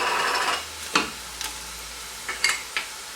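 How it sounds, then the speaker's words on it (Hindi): Whole spices (cloves, cinnamon, bay leaf, cumin, green cardamom) hit hot oil with golden onions for mutton tahari, giving a soft steady sizzle broken by a few sharp spatters and stirring scrapes. "इसमें आप साबुत मसाले डालेंगे"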